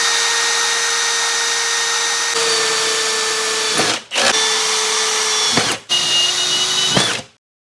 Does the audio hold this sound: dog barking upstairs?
no